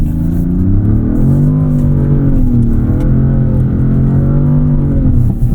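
A 2026 Dodge Charger Scat Pack Plus AWD accelerates hard on snow, its loud, close engine note climbing and wavering in pitch as the throttle is held open, with no talking.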